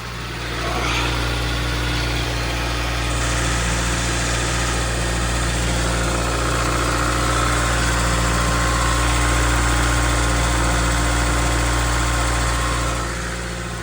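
A Toyota Celica with a 2ZZ engine idles steadily up close, a constant low engine hum with a faint lift in revs late in the run, no voices.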